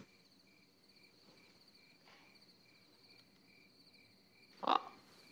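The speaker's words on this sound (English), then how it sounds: "The crickets." Crickets chirp in a steady, evenly spaced pulse against a quiet night background, broken by a single short louder knock near the end.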